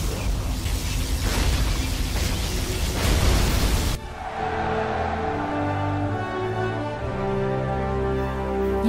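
Particle cannon blast in the game C&C Zero Hour: a dense, loud roaring burst for about four seconds that cuts off abruptly into a lower mechanical hum with tonal layers.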